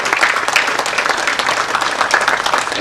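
A conference audience claps for two speakers at an India-China relations dialogue in Calcutta, a dense, even burst of applause from a seated crowd, moderately loud and lasting a few seconds with no talk.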